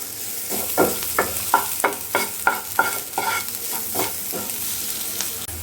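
Spices with turmeric frying in a pan for a paratha filling, with a steady sizzle under about a dozen regular scraping stirs of a spoon against the metal, close and moderately loud.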